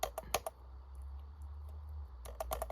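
Sticking keys pressed on an HP 245 G8 laptop keyboard make close, sharp plastic clicks in quick bursts at the start and end, with a low hum filling the quiet gap between.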